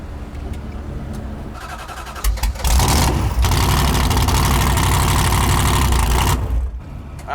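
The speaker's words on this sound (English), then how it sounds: "now we'll run the car again" The race car Blasphemi fires up after a quiet idle, then its engine roars loud and rough for several seconds before cutting off abruptly.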